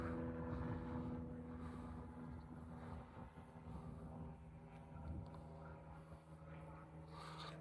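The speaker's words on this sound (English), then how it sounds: "Plane going over." A faint, distant airplane drones overhead on an RAF flight path near a campsite, a low steady hum with a gently wavering pitch that carries on throughout.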